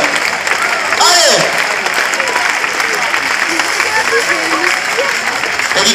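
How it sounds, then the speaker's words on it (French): Crowd at a recortadores bullfight in Beaucaire clapping steadily and loudly, dense sustained applause with a voice calling out over it. "Allez, on peut l'applaudir."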